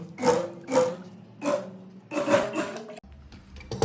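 A sewing machine stitches around a kurti neckline in short rhythmic bursts, a close, repeating mechanical whir with brief pauses between runs and a soft knock near the end.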